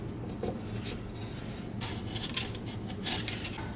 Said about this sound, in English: Make a nice scratch around here where we want to cut this out.